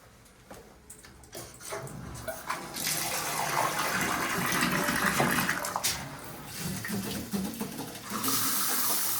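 An old bathroom faucet with weak pressure runs its hot and cold water in turns, giving a steady, fairly close rush of flowing water that swells, dips briefly and picks up again, with clunks from handling the taps.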